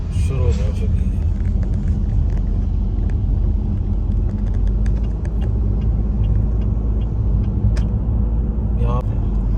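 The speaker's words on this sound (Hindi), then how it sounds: "ये जनाब अब शाम की जो ट्रैफिक जो है वो शुरू हो चुकी है" Evening road traffic on the streets of Guilin city, a continuous low rumble of passing cars and motor vehicles, steady and fairly loud throughout with occasional faint higher noises above the drone.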